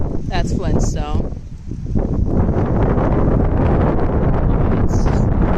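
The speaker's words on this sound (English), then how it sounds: "It's super windy." Strong storm wind buffets the microphone in a loud, continuous roar outdoors, following a brief burst of talk at the start.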